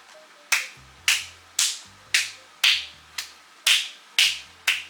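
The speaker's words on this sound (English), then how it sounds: "so clapping in the front, back." Ten sharp hand claps in an even rhythm, alternating in front of and behind the body during a dynamic warmup, each crisp and close with a short decay and no talking.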